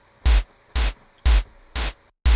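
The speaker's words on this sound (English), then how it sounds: "we're going to go ahead and turn on the white noise again." Bursts of synthesized white noise hiss in five even pulses, each short and loud with a sharp start and quick fade, separated by quiet gaps.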